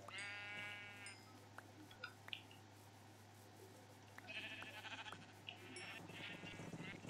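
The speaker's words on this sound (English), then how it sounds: "Oh god, there's still crazy sheep noises in here." Blocky game sheep in Minecraft bleat repeatedly, several wavering calls overlapping at varied distances above a steady low background hum, no talking.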